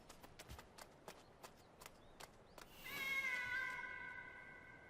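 A cat in an anime scene meows once in a drawn-out, clear call, after several soft, evenly spaced footstep-like taps, set against a quiet background.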